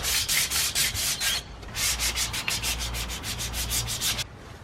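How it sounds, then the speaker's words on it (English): Wooden ramp railings at a house get sanded by hand in quick, rhythmic rasping strokes, steady and close, with one short pause midway and no voices. "I sanded them all down first."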